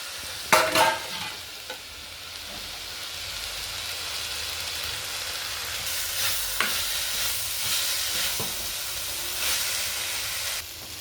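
Snake gourd stir-fry (poriyal) with cooked lentils is stirred in a pan, with a couple of sharp utensil clacks at the start followed by a continuous close sizzle and scraping.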